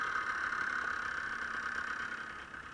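A Honda Odyssey FL350 off-road buggy engine runs steadily in gear, a close, even mid-pitched drone with a whining tone held throughout.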